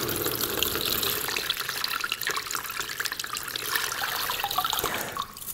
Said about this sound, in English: you're going to simply pour boiling water over the chain